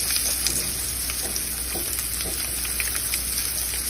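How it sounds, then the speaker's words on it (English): Meat pressed down in a hot frying pan, searing with a loud, steady, close sizzle and crackle throughout, alone without any talking. "press it down a little to make sure you got maximum contact with the pan, so you can get all of that nice sear on the meat"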